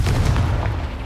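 The Confringo blasting spell explodes in the video game Hogwarts Legacy, a single loud, booming blast with a heavy low rumble that fades over about a second.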